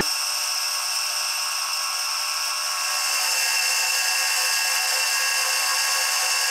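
A power tool with a polishing disc works on aluminium, producing a steady high-pitched whine and a hiss of rubbing that hold continuously and closely. The sound grows slightly fuller halfway through.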